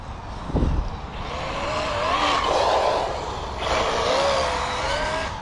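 An Asuga XLR RC car speeds past with its worn road tyres breaking apart, a rising and falling motor whine with gritty scraping noise and a sharp thump early on, moderately loud and close.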